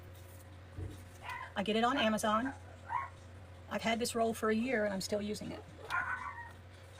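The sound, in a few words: dog barking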